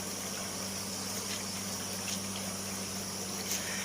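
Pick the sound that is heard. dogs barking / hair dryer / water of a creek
water of a creek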